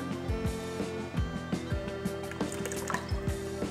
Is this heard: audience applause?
no